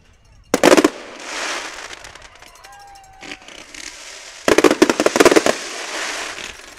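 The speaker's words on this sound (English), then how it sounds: "we're going to end with fireworks" Fireworks burst after a varsity high school football game at night, with two loud volleys of rapid crackling bangs separated by a quieter stretch with a whistling rise and distant pops.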